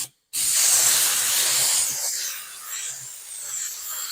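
Spray glue hisses from an aerosol can during a car audio enclosure build in a Honda CR-V, one loud continuous burst fading after a couple of seconds, with faint softer sprays after, alone.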